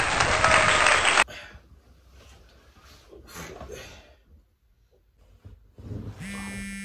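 A brief burst of loud clapping cuts off abruptly after a second, followed by quieter room sounds and a short electronic tone at the end.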